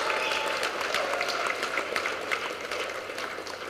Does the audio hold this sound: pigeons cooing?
no